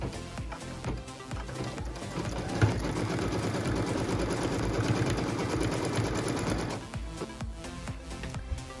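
A sewing machine stitches piece four of a pieced quilt block along a tack-down line, running in one steady, close, rapid whir for several seconds, with quieter handling before and after.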